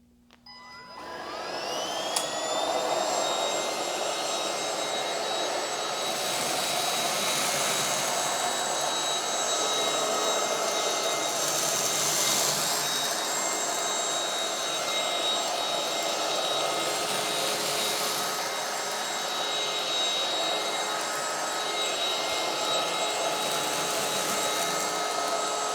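A Bissell Featherweight cordless stick vacuum cleaner switches on with a rising whine, then runs as a steady, loud, close motor drone with airflow hiss for about twenty seconds, no talking.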